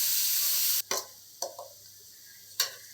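Tomato and onion sautéing in oil in a pan for sundakkai kara kuzhambu, a steady broadband sizzle that suddenly drops away, followed by a few sharp ladle taps and stirring scrapes.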